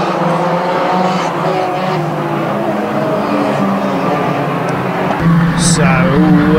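Junior banger stock cars race at Kings Lynn, engines roaring loudly and continuously as the pack gets away, with tyre noise and a surge of revving toward the end, a commentator's voice running over the top.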